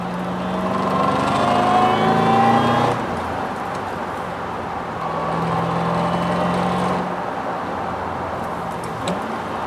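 A 2007 Stage 3 Roush Mustang with 415 horsepower accelerating hard, engine droning and rising in pitch through the revs, dropping at a shift, then climbing again, loud and close from inside the car.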